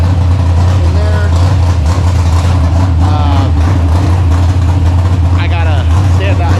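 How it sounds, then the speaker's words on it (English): A methanol-fueled car engine idles steadily in the background, a constant low rumble running the whole time beneath nearby talk. "got the car running in the background. You can probably hear in there"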